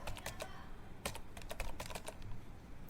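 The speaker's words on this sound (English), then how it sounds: "And then we need to type the next command" Quick bursts of keystrokes on a computer keyboard as a command is typed on a Windows 11 PC, close and crisp, with short pauses between clusters of taps.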